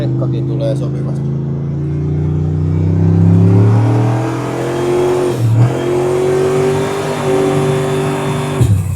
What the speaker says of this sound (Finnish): Rekkakin tulee sopivasti.